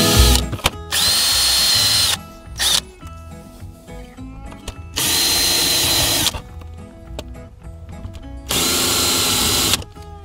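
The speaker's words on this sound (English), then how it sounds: "So now I'm actually going to drill a hole." Power drill boring a hole into the wall of a damp old church, three loud sustained bursts of whirring separated by quieter pauses with small handling sounds.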